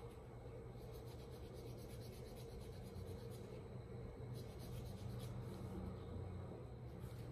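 Steady, soft rasping of a nail file rubbed back and forth on nails during a pedicure, continuous and close, with no talking.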